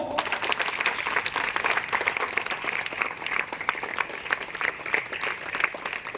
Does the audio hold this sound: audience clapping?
yes